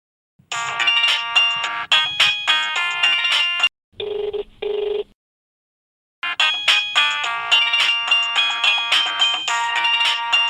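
A mobile phone plays a loud repeating electronic ringtone melody that goes unanswered. The melody stops briefly for a short two-tone beep, then falls silent and starts again, continuing without pickup.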